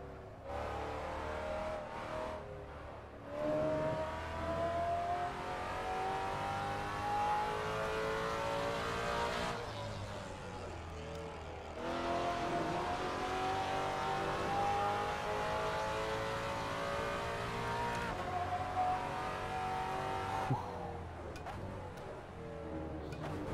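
A race car engine in the Assetto Corsa racing game revs hard through rising pitch sweeps, with abrupt downshifts and gear changes breaking the climbs, loud and continuous with no talk.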